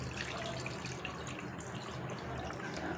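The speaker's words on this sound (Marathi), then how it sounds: "लगेच थंड पाणी घालून घ्यायचं आहे" Steady cold water pours continuously over freshly curdled milk in a strainer while making rasgulla, a constant splashing hiss, with no voices.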